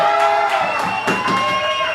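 A live crowd at a Bears postgame show cheers and whoops, the noise loud and close, with bright shouts and whistles rising and falling over a couple of seconds.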